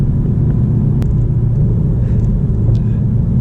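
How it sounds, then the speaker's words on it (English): A Mercedes E63S AMG roars in race mode from inside the cabin, a loud, steady, deep engine rumble with no break, close and dominant. "It is loud in this mode."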